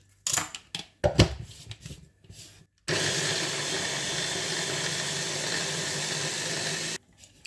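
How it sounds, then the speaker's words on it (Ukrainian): An electric food chopper whirs continuously for about four seconds while chopping pieces of cabbage, loud and close, after a few scattered knocks and rustles of handling. "Ріжемо нашу капусту на ось такі довільні шматочки і розкладаємо подрібнювач."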